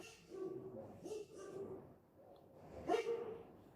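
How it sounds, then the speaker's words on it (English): A dog in Greece gives a few short barks and yips in bursts, moderately near and fairly quiet, with brief pauses between them. "The dogs here in Greece don't seem to be that well trained."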